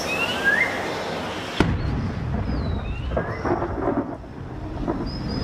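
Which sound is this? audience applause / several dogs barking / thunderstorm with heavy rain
thunderstorm with heavy rain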